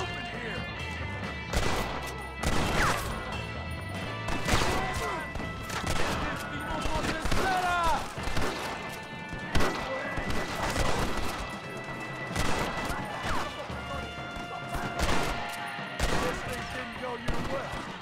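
Gunfire in Red Dead Redemption, loud rapid shots crack out in bursts across a long battle, with crashes and echoes between volleys and someone talking at times.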